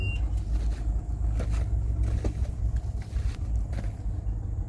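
Scania P410 XT fuel truck being driven, a low steady diesel engine rumble from inside the cab with faint clicks and knocks, fairly quiet, no talk.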